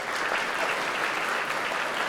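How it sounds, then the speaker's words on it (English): Steady, dense round of audience applause in a conference hall at a caregiver-rights event, continuous and even throughout with no talk over it. "Again, a round of applause, please."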